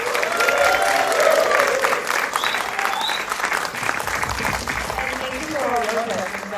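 A film festival audience applauds the filmmakers after a Q&A panel, sustained full clapping with crowd murmur and faint voices and whistles mixed in, steady and loud throughout.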